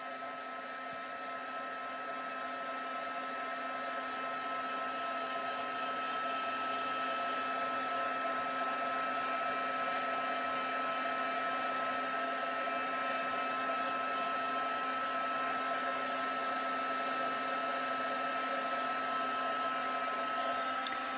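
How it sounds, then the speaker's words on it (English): A handheld heat tool blows steadily while melting embossing powder on a watercolor heat-embossed image, a continuous whirring fan-and-air hiss that rises slightly in the first seconds and then holds level and close, with no talking. "I like to just move my heat tool around."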